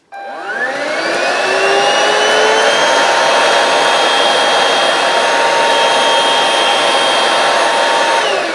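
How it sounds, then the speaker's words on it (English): A homemade build-your-own vacuum cleaner kit motor with boosted power whines up quickly from silence, then runs steadily at a loud, close, high-pitched roar with tonal hum for several seconds. "Let's see if I can pick up any of this using my build your own vacuum cleaner"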